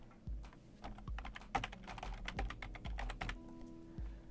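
Keystrokes on a computer keyboard typing OneDrive into the Windows search box, a quick irregular burst of clicky taps with a few heavier key presses, close and quiet with no voice.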